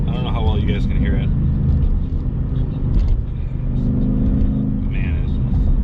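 Deep, continuous exhaust rumble from a 2020 Ford Mustang Bullitt on the move fills the cabin, with the engine note swelling mid-way and someone speaking over it.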